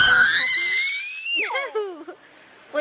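A young child yells in a long, high, strained cry that breaks into shorter wavering shouts, loud and close, followed by a brief further outburst.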